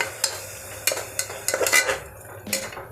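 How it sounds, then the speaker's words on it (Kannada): Onions fry in a pan for chicken bhuna masala while a metal spoon scrapes and clinks against the pan in quick, uneven strokes over a faint sizzle. "ಈರುಳ್ಳಿ ಚೆನ್ನಾಗಿ ಇದರಲ್ಲಿ ಫ್ರೈ ಆಗಬೇಕು"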